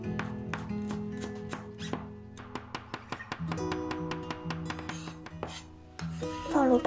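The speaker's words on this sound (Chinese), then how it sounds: "姜切成丝，再剁成姜末" A kitchen knife minces ginger on a cutting board: quick, evenly spaced chops repeat throughout, crisp and close, over soft background music.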